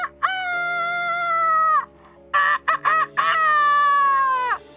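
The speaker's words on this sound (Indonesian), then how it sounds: "Dan ayam-ayam pun mulai berkokok." Roosters crowing, two long loud calls close by with a burst of shorter honking notes between them, no talk.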